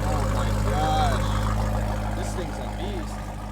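A 2013 BMW E92 M3 with a six-speed manual idles with its Valvetronic exhaust valves open, a steady deep rumble running throughout, close by, as voices talk over it.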